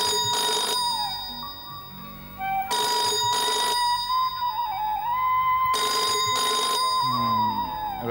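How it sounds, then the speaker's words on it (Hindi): An old-style telephone rings in three long electronic trills separated by pauses, loud and close, with a tonal background underneath. "रेंचो, तेरा फोन ले लो।"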